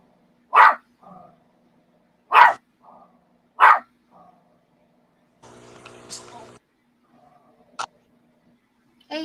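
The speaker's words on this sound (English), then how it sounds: "Just in time to hear the dog barking at the cat." Dog barking at a cat, three loud close barks in a row followed by quieter sounds and a buzzing noise, with a short bark near the end.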